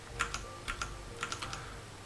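Typing on a Code mechanical keyboard resting on a marble slab at home, with quiet clustered key clicks in irregular bursts and no talking.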